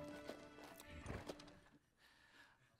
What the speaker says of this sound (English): I hear horses, I hear wagon, I hear them talking.